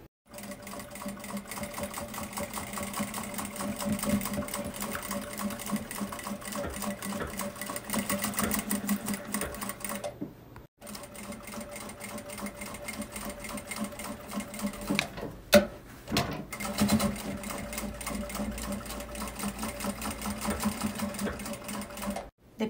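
A sewing machine runs steadily, stitching a fabric carrying case, a close, continuous mechanical whirring with rapid needle rhythm lasting about ten seconds, a brief stop, then another long run with a few small clicks as the work is adjusted.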